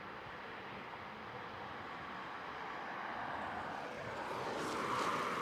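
Distant military jet at RAF Coningsby, a faint broad roar that slowly swells louder as it approaches, with no talking.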